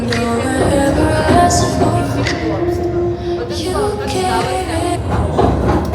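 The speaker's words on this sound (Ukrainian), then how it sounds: "Як бачите, ми їдемо в Куки залізницею" A passenger train on a railway journey toward Lviv rumbles and clatters steadily from inside the carriage, with squeaks and rattles throughout, while voices murmur in the background.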